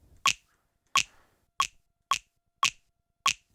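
Six crisp finger snaps spaced roughly evenly over a few seconds, close and dry, recorded alone as a sample for music production.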